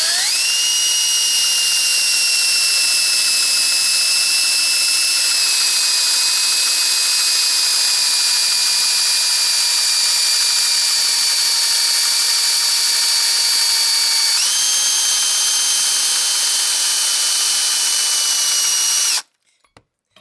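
A power drill fitted with an old, dull bit whines loudly and steadily for about nineteen seconds, its pitch stepping down and back up as pressure changes, then cuts off abruptly, with no voices.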